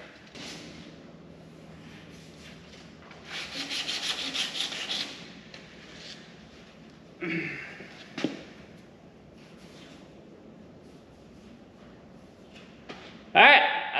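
Sandpaper rubbing over a car body panel in a garage during a restoration, with a few bursts of steady scraping strokes, a sharper knock and later a loud brushing sweep, close and alone without talk.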